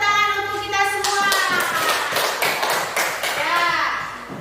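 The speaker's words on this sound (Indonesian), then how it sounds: "Tepuk tangan untuk kita semua." Children in a classroom clap their hands during an elementary religious lesson. The claps are sharp and uneven, mixed with excited children's voices and chatter.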